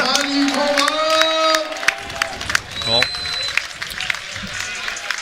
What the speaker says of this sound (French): Applaudi et salué par toute la salle, par tout l'hippodrome bien sûr de Cabourg